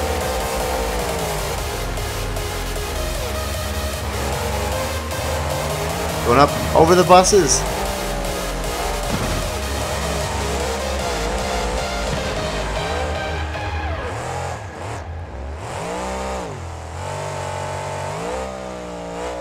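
A monster truck in the BeamNG Drive video game spinning donuts in mud, its engine revving and droning in waves under continuous commentary, with a brief louder burst midway.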